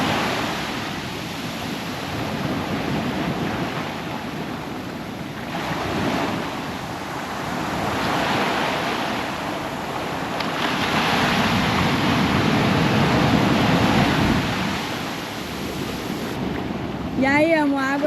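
Ocean waves breaking on the shore of a beach near Paraty, Rio de Janeiro, with surges rising and falling in long washes under steady wind noise and some talking.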